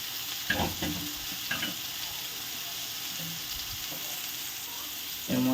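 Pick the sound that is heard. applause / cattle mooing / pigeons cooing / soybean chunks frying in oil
soybean chunks frying in oil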